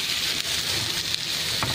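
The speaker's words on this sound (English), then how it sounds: "So we're going to saute the garlic, onion, and ginger" Garlic, onion and ginger sautéing in a pan, a dense, even sizzle at close range with a faint clack near the end and no talking.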